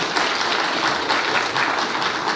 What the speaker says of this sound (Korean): 박수 한번 집어서요